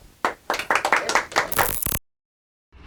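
Studio audience at a talk show breaking into a short burst of clapping, several separate hand claps swelling for about two seconds and then cutting off abruptly into silence.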